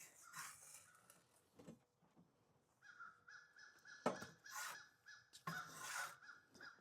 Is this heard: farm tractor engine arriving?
no